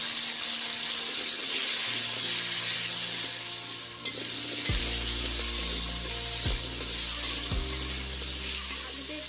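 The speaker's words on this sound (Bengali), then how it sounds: "এইরকম করে আলুটাকেও ভেজে নেব" Potatoes fry in a pan for a vegetarian potato and pointed gourd dish, making a loud, steady sizzle with stirring close by, while faint tonal hums sit underneath.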